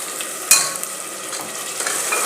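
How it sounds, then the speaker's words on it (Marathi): Tomato puree sautéing in hot oil for pav bhaji, a continuous soft sizzle with a sharp clatter as it hits the pan, then occasional scraping stirs. "ही टोमॅटोची प्युरी व्यवस्थित आपण भाजून असं त्याला तेल सुटेपर्यंत थोडं परतून घेऊया"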